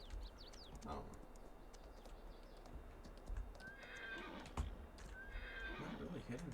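A horse in a 1960s roleplay farm video game whinnies twice against a steady outdoor background, with clip-clop hooves and faint birdsong mixed in.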